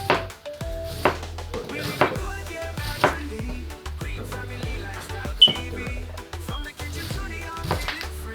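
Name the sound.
knife slicing cabbage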